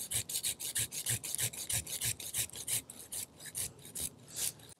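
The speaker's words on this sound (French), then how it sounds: "Je vais être obligé de prendre ma scie ici." A hand saw rasps steadily back and forth through a fruit tree branch during pruning, a quick, even rhythm of strokes close by with no talking.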